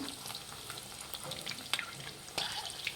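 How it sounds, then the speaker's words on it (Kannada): Chicken kebab pieces fry in hot oil over a high flame, giving a continuous close, bright hiss and crackle with a couple of sharper pops near the end. "ಹೈ ಫ್ಲೇಮಲ್ಲಿ ಇಟ್ಟು ಕಬಾಬ್ ಮಾಡಬೇಕು. ಲೋ ಫ್ಲೇಮಲ್ಲಿ ಇಡಬೇಡಿ, ಇಲ್ಲ ಎಣ್ಣೆ ಕುಡಿದ್ಬಿಡುತ್ತೆ."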